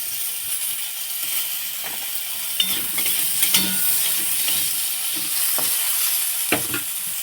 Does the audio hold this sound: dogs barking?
no